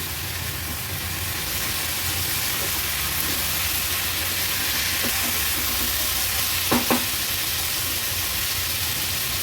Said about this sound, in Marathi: भाजी परतताना गॅसची फ्लेम मी हायवर केली आहे